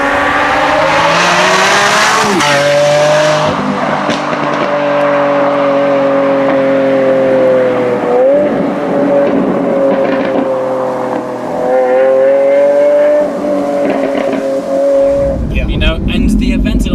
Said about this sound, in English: And the Aventador has such an iconic sound.